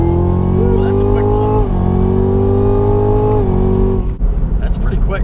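A 2017 Camaro ZL1 with a 10-speed transmission roars loudly under hard acceleration, its engine tone climbing through steady pulls with quick shift steps before rumbling down on a downshift, with people talking over it.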